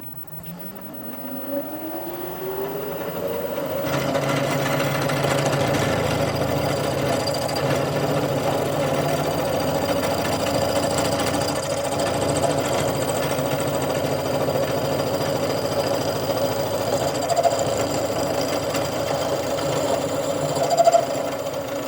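A lathe boring bar takes a gentle 1 mm cut in a worn, flogged-out small bearing bore: a steady machine whine and continuous metallic cutting hum that builds as the spindle spins up, then holds evenly throughout.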